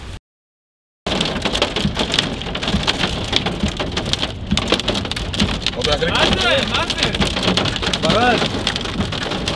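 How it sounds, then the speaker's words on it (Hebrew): Heavy hail pelting down outdoors in southern Spain, a dense, steady patter of impacts with rumbling storm noise after a brief silence, with a voice speaking briefly over it. "ברד ירד... ברד ירד בדרום ספרד"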